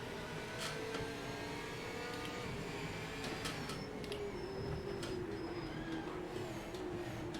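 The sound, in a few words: race car engine in video game Project Motor Racing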